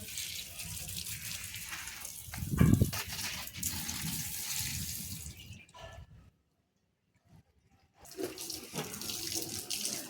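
A strong stream of water gushes onto garden plants, an ajwain plant and a red-flowered plant, on a hot day before rain, then stops for a couple of seconds of near silence and starts again, loud and close.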